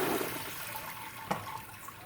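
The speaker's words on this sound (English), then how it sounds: "So here I'm just going to drain the beans." Water rushing and draining away from a bowl of soaked dried beans poured out at a kitchen sink, a steady close splashing wash that gradually eases, with a single small clunk midway.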